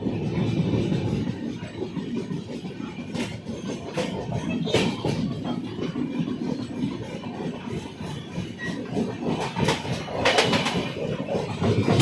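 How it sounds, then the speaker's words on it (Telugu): Tirumala Express running on after leaving Annavaram station, a moderate steady rumble of the coach with intermittent clatter and rattles from the wheels, heard from on board. "అన్నవరం నుంచి మన ట్రైన్ అయితే బయలుదేరిపోయింది"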